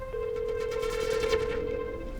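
A telephone rings on and on with no one picking up, a steady electronic bell tone repeating in quick pulses for a couple of seconds, fairly close and clear with nothing else over it.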